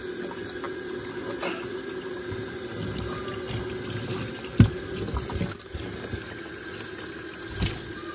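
Water running steadily into a large sink while monkeys are bathed, with a continuous faucet hiss and a few splashes and knocks near the end, with no talk.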